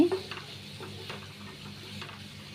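Salt being stirred into cucumber cooking in a pan for roti chutney: a soft, continuous sizzle with scraping stirs, opening with a sharp knock against the pan.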